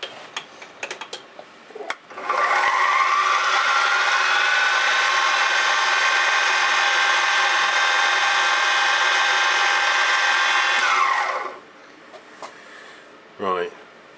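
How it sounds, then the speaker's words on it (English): Power drill boring a hole through a metal part for a miniature petrol engine, a steady loud whine lasting about nine seconds before winding down, with clicks and handling noises before and after. "so I've got to drill a hole"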